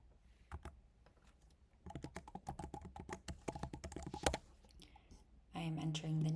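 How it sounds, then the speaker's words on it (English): Rapid clicking of computer keyboard keys in short bursts as a name, email and password are typed in, close and crisp, with a brief pause and then a louder unrelated tone at the end. "I am entering the name, email, and a password."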